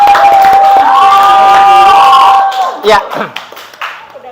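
An audience at a coding and artificial-intelligence training session bursts into scattered clapping and a few cheers after a sustained tone fades, while a voice speaks briefly.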